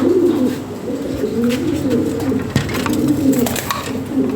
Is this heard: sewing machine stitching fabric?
no